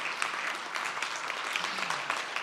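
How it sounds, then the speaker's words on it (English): Audience applause at a day-two opening session of a gathering, a steady wash of clapping filling the whole short stretch at moderate level. "Round of applause for our hosts."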